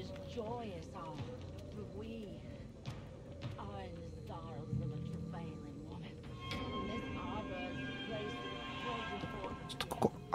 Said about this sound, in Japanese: 足音聞こえる